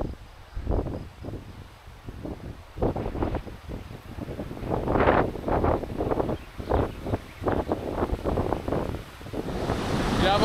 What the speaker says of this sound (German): von links nach rechts windet es